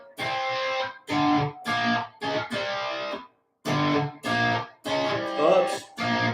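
A distorted electric guitar plays a series of fourth-interval power chords, with loud chopped strums separated by short pauses.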